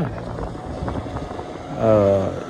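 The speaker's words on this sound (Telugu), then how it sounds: "speed boat" Speedboat motor running out on the sea at Bet Dwarka, a broad droning engine with wind buffeting, growing louder and closer toward the end of the short stretch.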